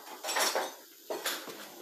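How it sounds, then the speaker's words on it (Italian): A metal spoon is pulled from a pile of cutlery in a small camping-stove kitchen, giving a few quick, close clinks and rattles in two short bursts with a quiet pause between. "Aspettate che prendo un cucchiaio"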